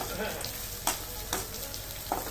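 Onions frying in a pan for paneer do pyaza give a steady close sizzle, broken by a few soft scraping knocks as they are stirred.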